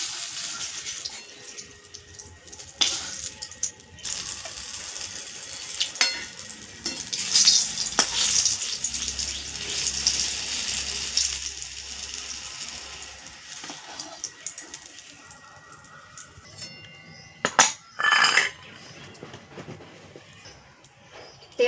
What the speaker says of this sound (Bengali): বাকি বেগুনগুলো এইভাবেই ভেজে নেব